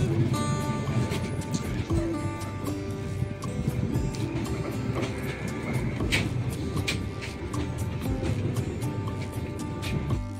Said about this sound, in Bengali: এরপর আমাদের ট্রেন তার গন্তব্যের দিকে রওনা দিল